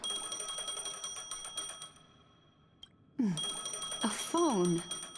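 A phone rings in the Honkai Star Rail video game, a steady electronic ringtone with bright, even tones for about two seconds. After a short quiet gap, voices speak over a faint background hum.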